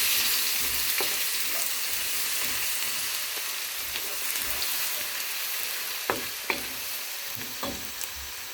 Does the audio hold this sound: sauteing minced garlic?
yes